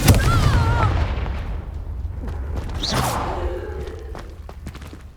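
Spells are cast in the Hogwarts Legacy video game: rushing whooshes and booming blasts with low rumbling explosions, loud and close, fading toward the end.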